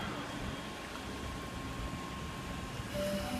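A Sydney Trains S set waits at a Seven Hills station platform, giving a faint, steady rumble and hum at a distance under low ambient noise, with a brief tonal whine near the end.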